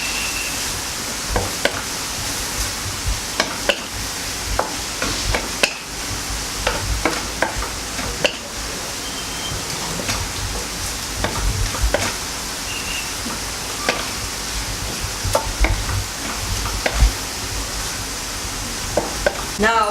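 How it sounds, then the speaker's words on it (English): Steady sizzling of beef and onion stir frying in a hot pan, with scraping and clinks of a utensil stirring, continuous and fairly loud, no talking. "Keep stir frying."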